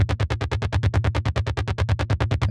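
Arpeggiated synth bass in the style of a Roland SH-101, run through a Timeless chorus delay with low-mid EQ lift, pulsing in a steady, fast, even stream of loud staccato notes.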